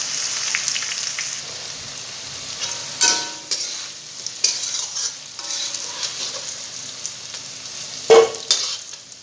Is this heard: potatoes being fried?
yes